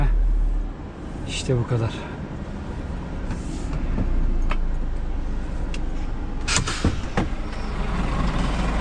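A truck engine drives through snow, a steady low rumble that builds slightly with faint clunks, while someone talks over it.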